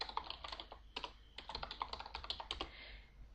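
Commands typed on a computer keyboard while playing the Aardwolf MUD text game: a close, quick irregular run of crisp key clicks in bursts, with no voices.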